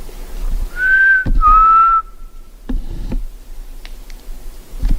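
Two clear whistles sound close by, the second sliding in pitch. Faint clicks and ticks follow in the quiet.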